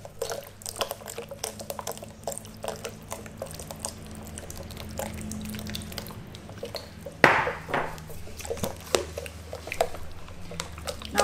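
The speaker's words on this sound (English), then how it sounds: "Make sure that you keep on stirring while adding lemon juice." A spoon scrapes and clinks against a pot while a butter mixture is stirred and lemon juice is added, steady close rhythmic scraping with one sharper knock partway through.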